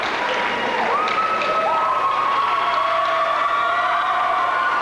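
A crowd applauds continuously at a 1991 Winnipeg invitational high school basketball tournament trophy presentation, with sustained clapping filling the gym and a few whistle-like tones rising over it.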